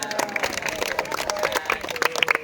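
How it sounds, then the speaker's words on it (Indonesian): Classroom applause from eighth-grade students during a physical education lesson at a junior high school, a brief burst of dense, steady clapping filling the room with a few voices mixed in. "Oke, tepuk tangan dong"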